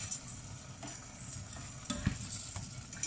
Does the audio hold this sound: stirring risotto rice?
yes